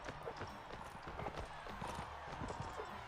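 Horse hooves galloping in the video game Mount & Blade Warband, a rapid close clip-clop rhythm running steadily through the clip amid faint game noise and a quiet voice.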